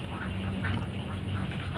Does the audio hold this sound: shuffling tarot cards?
no